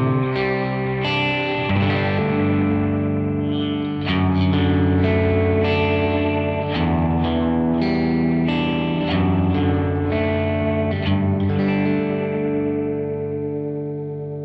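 An electric guitar runs through the UAFX Del-Verb pedal's analog delay setting, Memory Man style with modulation, producing a continuous, loud wash of chords and melodic notes blurred by warbling repeats.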